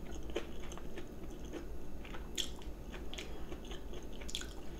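Close, steady chewing of a home-cooked Korean meal of seasoned chwinamul greens, soft crunchy bites and mouth sounds repeating at an even pace with no talking.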